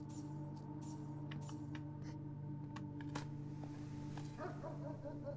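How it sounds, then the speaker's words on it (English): A dog in the video game Blue Prince barks several times in sharp, scattered bursts. The barks are faint and distant over a steady low hum. "Random dog barking."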